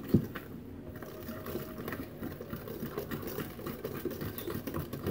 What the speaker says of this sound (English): you just give it a little whisk